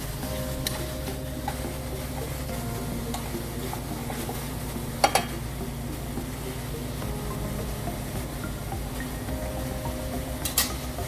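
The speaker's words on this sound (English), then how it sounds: "Then you're going to add your fresh spinach. Just until wilted." Fresh spinach cooks down in a pan of garlic shrimp pasta, a soft, steady sizzle broken by a few light clinks and scrapes of a utensil stirring against the pan.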